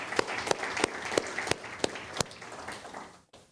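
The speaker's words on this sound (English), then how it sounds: "So please, another round of applause for Professor D." A university audience claps after an inaugural professorial lecture, a moderate steady patter with several loud, close, evenly spaced claps standing out before the sound tapers and cuts off near the end.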